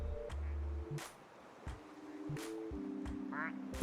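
Quacking rubber ducks in the game Placid Plastic Duck Simulator, several short tonal quacks scattered over a low steady hum, fairly faint and close together.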